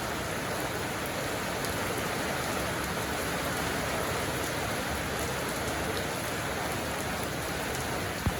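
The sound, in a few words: rain falling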